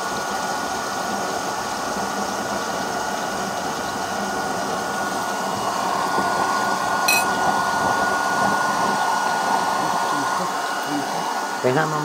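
A blower fan feeding a waste-oil burner stove runs with a constant loud whirring hum, steady throughout, with a brief metallic clink near the middle.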